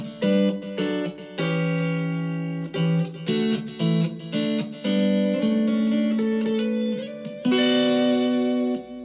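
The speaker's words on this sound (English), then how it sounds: "you start to get a bit more harmonic distortion" Heavily distorted electric guitar chords ring out through an amplifier, sustained and buzzing, changing every second or so at a steady loud level.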